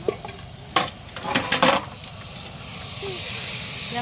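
Mutton and chicken cooked at an outdoor family picnic being stirred in a pot, with scraping clatters followed by a steady sizzling hiss, close and fairly loud.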